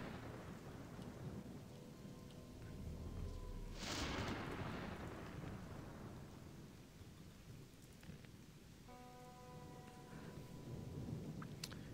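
Thunderstorm in the video game Gothic 2, steady rain with a rolling thunder crash near the middle, faint distant game tones and no talk.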